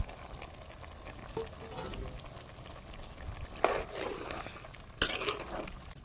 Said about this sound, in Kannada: ನೋಡಿ ಇವಾಗ ಹಂದಿ ಮಾಂಸ ಬೇಯ್ತಾ ಇದೆ. ನೋಡಿ ಇವಾಗ ಇದಕ್ಕೆ ನಾನು ಕಟ್ ಮಾಡಿದಂಥ ನೀರುಳ್ಳಿ, ಬೆಳ್ಳುಳ್ಳಿ, ಕಾಯಿಮೆಣಸು, ಶುಂಠಿಯನ್ನು ಹಾಕ್ತೇನೆ.